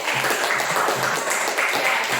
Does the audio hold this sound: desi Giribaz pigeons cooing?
no